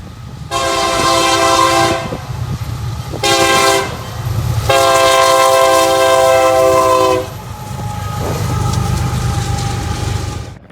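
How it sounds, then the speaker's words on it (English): Union Pacific intermodal train led by an SD70M with a GEVO trailing sounds its horn in several loud blasts over the rumble and rolling clatter of the passing train. "we caught a Union Pacific intermodal by accident, with an SD70M leading and a GEVO trailing"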